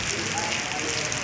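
Heavy rain pours down during a severe storm at an open breezeway of a technical college, a dense continuous hiss of spray and drops, loud and close.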